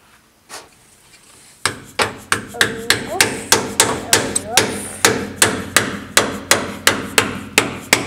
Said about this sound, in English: I'm going to try to crack open the bottom to allow the fluid to leak out